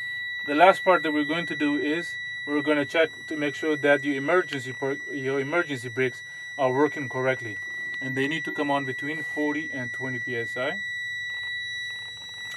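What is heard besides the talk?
truck low air pressure warning alarm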